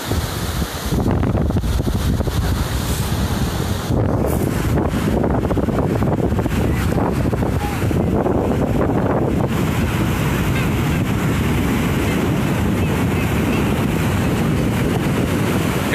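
Wind buffets the microphone nonstop on Cassino beach in summer. Surf rumbles underneath in a dense, continuous roar, and no voices stand out.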